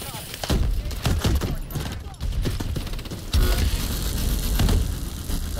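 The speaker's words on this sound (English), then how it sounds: "This is a laser rifle." Rapid bursts of laser rifle fire in Call of Duty: Advanced Warfare on PS4, loud repeated volleys with mechanical clatter, continuing through the whole stretch.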